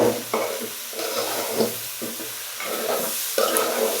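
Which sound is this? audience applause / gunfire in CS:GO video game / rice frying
rice frying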